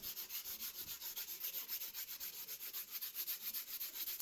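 Sandpaper is rubbed over charcoal dust on a drawing in quick, even back-and-forth strokes, a soft, rhythmic scratchy rasp heard close up and alone.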